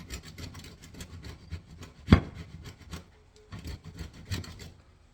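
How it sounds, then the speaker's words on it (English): Parmesan cheese is grated by hand, giving close, uneven scraping strokes that rasp against the grater, with one sharp knock partway through. "I have to grate out Parmesan cheese"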